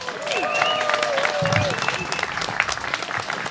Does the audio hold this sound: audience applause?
yes